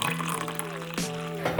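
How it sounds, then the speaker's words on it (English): Coffee pours in a steady, gentle liquid stream with a soft gurgle, close and quiet, ending in a brief splash. "All right, so I'm just gonna pour my coffee right on there."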